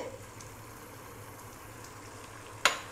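Mutton fries in oil in a pan for biryani, giving a steady soft sizzle and crackle with a couple of sharper clinks near the end.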